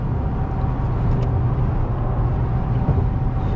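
Steady loud cabin rumble inside a 2016 Toyota Tacoma TRD Sport 4x4 cruising at 80 mph on the highway, deep road and engine drone with faint wind noise, no talking.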